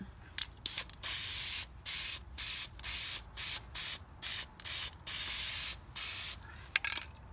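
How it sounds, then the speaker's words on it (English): Repeated short hissing bursts from a spray paint can, about a dozen close, loud sprays with brief gaps between them. "I've got my spray paint. I'm just gonna spray it."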